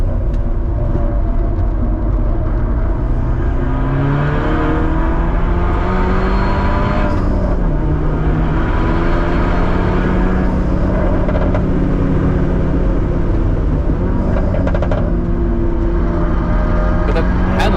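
Red Honda Civic FK2 Type R engine heard from inside the car on the Nürburgring, a loud continuous drone that climbs and falls in pitch through gear changes with road and wind rumble beneath, and no voices.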